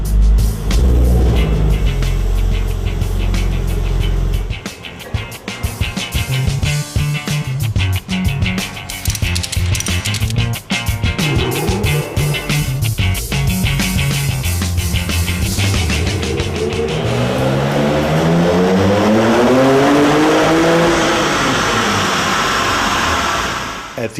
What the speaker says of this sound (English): Every motor that we build comes to our dyno room and is being tested in the dynamometer.